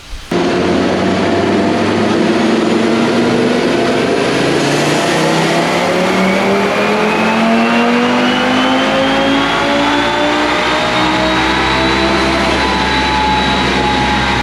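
An Audi RS3 with TTE777 turbo on an all-wheel-drive dyno pull, its engine note rising steadily in a long, loud, continuous climb through the revs, heard up close with no talking.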